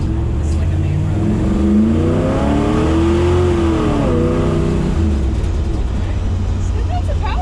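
A car with a 327 engine accelerates on a main road, a loud droning engine note rising in pitch and then falling as it shifts, people talking over it.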